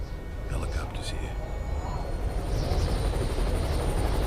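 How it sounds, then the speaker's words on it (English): Helicopters arrive in a Joker-themed ASMR roleplay set in Gotham, a steady loud rotor drone that grows slightly louder toward the end, with a soft voice speaking over the start. "Helicopters here."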